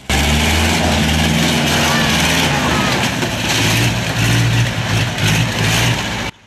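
Monster truck roaring and revving at a rainy outdoor stunt show, loud engine with surges and crowd noise, with voices talking over it.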